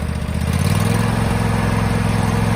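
A John Deere X330 lawn tractor engine running throttled up, a steady close low drone with a constant buzzing hum and no pauses or talk.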